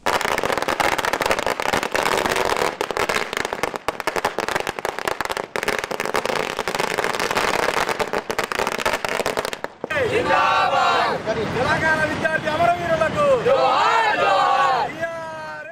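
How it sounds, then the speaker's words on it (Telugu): Firecrackers crackle in dense, rapid bursts at a street celebration at Telangana Thalli Chowk in Adilabad, loud and continuous, followed by a cheering, shouting crowd. "తెలంగాణ తల్లి చౌక్ వద్ద టపాసులు కాలుస్తూ మిఠాయిలు తినిపించుకుంటూ ఆనందాన్ని వ్యక్తం చేశారు"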